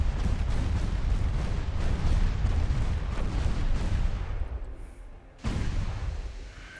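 Heavy naval guns boom in Ultimate Admiral Dreadnoughts, a dense run of loud, overlapping blasts and rumbling that fades briefly before another sharp report.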